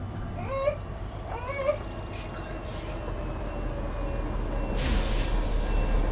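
A train rumbles past in the Fortnite battle royale, a steady low rolling roar that swells toward the end, with a brief squeal near the start over game sounds.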